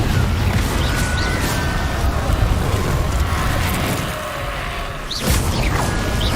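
A Confringo fire spell blasts in Hogwarts Legacy, a loud, sustained roaring burst over dense game noise, with a sharper whooshing flare near the end.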